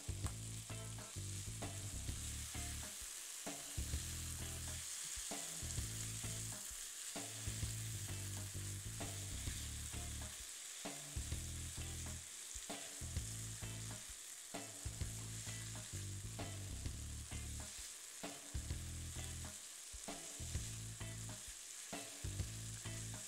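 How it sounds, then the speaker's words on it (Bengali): Chicken and aromatics for Thai chicken soup sizzle steadily in a pan while being stirred, a continuous close frying hiss with repeated scraping strokes of the spoon throughout. "এটা ২ মিনিটের মতো ভেজে নিলাম"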